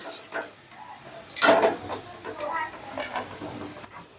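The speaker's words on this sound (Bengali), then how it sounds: "এবারে নেক্সট ব্যাচটাও ভেজে নিচ্ছি" Chicken strips deep fry in oil with a bubbling sizzle, broken by louder stirring scrapes and splashes in short bursts, close up and without speech.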